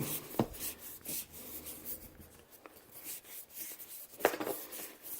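Rotating tubing cutter working around PEX pipe, quiet scraping and rubbing strokes in an uneven rhythm with a couple of sharper clicks, close and faint with no talking.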